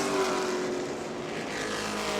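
Race cars roar around the oval at New Smyrna during the Prelude to the Cup, engines sustained and fairly loud as a close pack runs nose to tail, with no voices over the steady drone.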